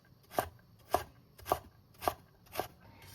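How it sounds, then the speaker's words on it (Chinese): A kitchen knife chops carrot into dice on a cutting board, five crisp, evenly spaced knocks about half a second apart, close and clear with no talk. "胡萝卜我们就稍微改刀一下，"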